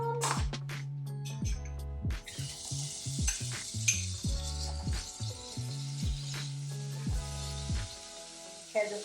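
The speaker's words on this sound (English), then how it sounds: "And everything is all sizzling." Cooking fat sizzling in a hot cast iron skillet, a steady frying crackle with repeated clinks and scrapes of a utensil against the pan, close by and without talk.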